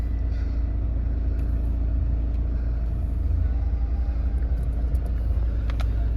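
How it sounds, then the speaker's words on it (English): A 2016 Toyota Avensis 1.6 D-4D diesel engine idles steadily with a deep, continuous low rumble, close by and unchanging, with no voices. "Just start the car up."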